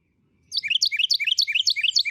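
Carolina wren song, a fast repeating three-part tea-kettle phrase: bright whistled notes in quick rhythmic bursts, loud and clear, starting after a short silence and continuing without pause, with no talk.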